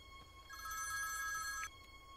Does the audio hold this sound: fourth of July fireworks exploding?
no